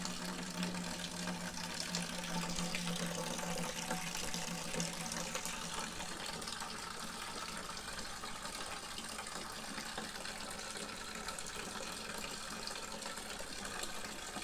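Steady rushing water pouring and draining from a spout in a maple sugar shack, continuous and even, with a low mechanical hum underneath, no voices.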